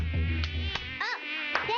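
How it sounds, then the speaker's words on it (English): A mosquito's high, thin whine drones close by, steady with slight wavering pitch and a few soft taps under it. "It was a mosquito."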